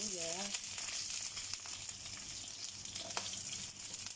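Bangus (milkfish) frying with ginger and onion in a pan, a steady close sizzle and crackle throughout, with a brief tonal squeak at the start and occasional small stirring clicks.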